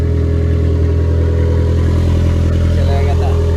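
A Geo Metro swapped with a Toyota 4AGE 20-valve black top engine idles with a loud, steady low rumble and even exhaust pulse, heard close up under a voice.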